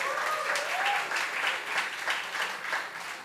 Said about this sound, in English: Let's give a round of applause for CAISO Blues Cafe.